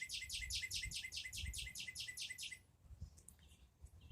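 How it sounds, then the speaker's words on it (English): Birds singing in a fast, repeated series of bright chirps for about two and a half seconds, then breaking into a few scattered, fainter calls over a low background rumble. "Beautiful birds."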